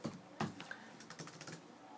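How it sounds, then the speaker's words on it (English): Quiet keystrokes on a computer keyboard while Java code is typed into Eclipse: a few sharper clicks amid a light, irregular patter of taps, fairly faint and with no talking. "We'll start here in our main method by typing scanner input"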